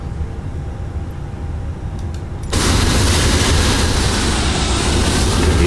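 An airliner's engines in a flight simulator at Tenerife spool up abruptly into a loud, steady broadband roar that fills the rest of the span after a quieter cockpit hum, with no talk.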